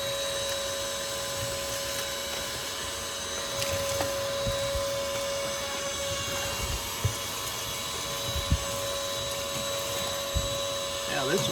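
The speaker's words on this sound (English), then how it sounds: "Now this will come in really handy with that battery operated vacuum" A cordless ash vacuum running on a DeWalt 20V Max battery gives a steady motor drone with a high tonal whine. Occasional small clicks and clunks of debris being sucked up break through, and the whole runs continuously at close range.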